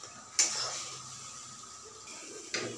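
Spices roast over a low-to-medium flame while a spoon stirs them in a pan for a besan curry; two sharp metallic clinks stand out against a quiet, faint background of soft scraping.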